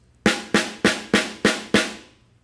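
A well-tuned snare drum fresh out of its case, struck six times at an even, moderate pace, each hit a crisp, bright crack with a short ringing decay, close and clear with no voices.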